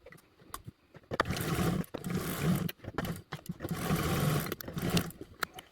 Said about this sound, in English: So follow me over to the sewing machine.